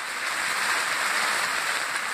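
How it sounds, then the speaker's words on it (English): Heavy rain pours steadily on a wall tent in a mountain camp, a dense continuous hiss with no breaks from start to finish. "Oh, here it comes. Heavy rain."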